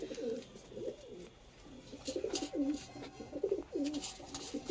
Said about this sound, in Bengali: এখানে পুরোটাই পায়রা আছে।